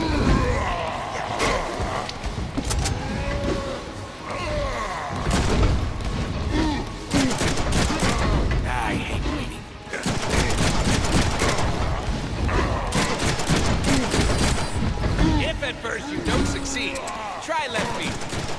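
Rapid gunfire bursts and booms from the Deadpool video game run almost continuously and loudly, mixed with game voices and effects and broken by a few short pauses.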